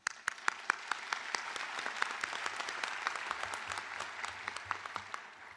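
Audience at a Parker University Doctor of Chiropractic graduation ceremony applauding the faculty and staff, sustained clapping from a sizable crowd with sharp individual claps standing out, moderately distant and steady throughout.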